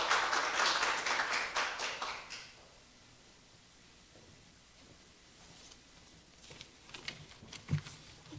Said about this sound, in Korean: 박수로 맞아주시기 부탁드리겠습니다.